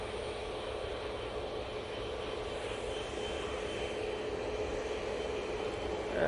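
A Qatar Airways airliner at Manchester Airport makes a faint, steady, distant jet rumble and hiss that holds even throughout, with no one talking.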